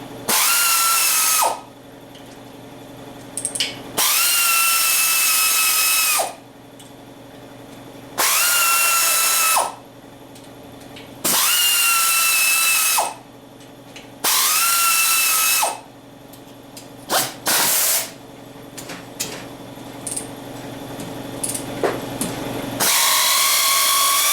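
A power tool zipping cylinder head nuts off a VW engine: loud, close whirring bursts of a few seconds each, repeated about five times with short pauses and small metallic clinks between them.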